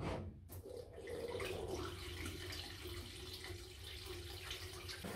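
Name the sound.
water being poured into CNC milling machine coolant tank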